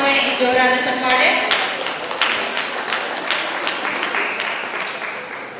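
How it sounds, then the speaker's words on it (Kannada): Loud, sustained applause from an audience at a yoga sports event, steady clapping for several seconds that gradually eases, with a voice talking over the start. "ಮತ್ತೊಮ್ಮೆ ಜೋರಾದ ಚಪ್ಪಾಳೆ."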